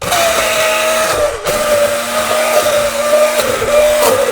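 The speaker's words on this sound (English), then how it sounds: "Otherwise, you just use an immersion blender." An immersion blender whirs steadily as it purees cooked tomatoes into passata for an Italian tomato sauce, a loud continuous motor drone with slight pitch shifts and a brief dip partway through, no voices.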